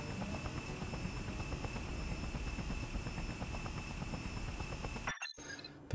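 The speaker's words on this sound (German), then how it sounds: "wir fliegen noch ein bisschen Hubschrauber" Helicopter flown in a video game, a steady rotor drone with fine rhythmic chopping pulses and thin high whine, moderately loud, cutting off abruptly near the end before a brief burst returns.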